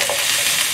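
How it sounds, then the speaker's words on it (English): Ginger and garlic stir-frying in a hot pan for a Moo Shu dish, a brief, bright, steady sizzle with a faint scrape of stirring and no voices. "Ginger and garlic in. Stir until aromatic."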